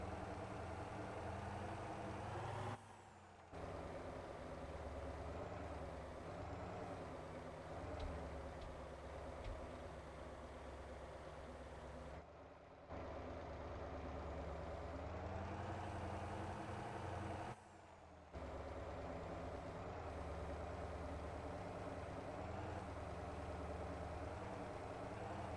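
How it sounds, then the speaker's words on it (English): A garbage truck's engine in a driving video game, off-roading: a steady, loud low drone runs almost unbroken, with three brief dips in level, and no talk over it. "Just off-roading with a garbage truck."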